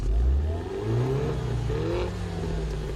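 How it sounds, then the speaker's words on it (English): A 2011-2015 Mini Coupe turbo engine cranks and fires up via starter button, revving briefly with a rising mechanical growl before settling into a rough idle. "punching the starter button and firing the turbo engine into life"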